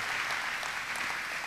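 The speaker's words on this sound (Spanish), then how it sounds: "¿Por qué no le damos una ofrenda de palmas a ese Cristo de la gloria?" A church congregation applauds, a dense, even wash of clapping that stays steady and moderately loud throughout, with no voices.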